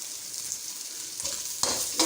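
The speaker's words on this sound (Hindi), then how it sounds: "इसको हल्का से इसी के साथ मैं फ्राई करूंगी।" Shredded boiled chicken fries in hot oil with a soft steady hiss, broken by louder bursts of sizzling as it is stirred and tossed, close up with no voices.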